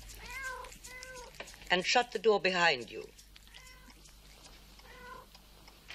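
Cats meowing indoors, several short meows scattered between lines of conversation, with a louder cluster of overlapping cries in the middle; people talk in the clip.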